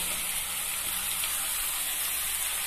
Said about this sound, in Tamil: 2 பெரிய சைஸ் வெங்காயம் சின்ன சின்னதாக வெட்டி வச்சுட்டு அதையும் சேர்த்து நல்லா வதக்கலாம்.